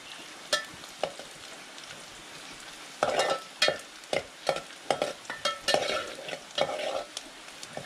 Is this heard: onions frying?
yes